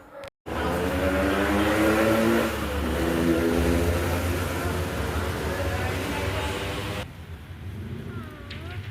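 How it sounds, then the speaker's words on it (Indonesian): Motorbikes pass along a village street at night, a close, steady engine drone that swells and fades as they go by, then quieter road noise with a faint voice. "seperti ini suasana malam di kampung saya, banyak lalu lalang kendaraan bermotor ya"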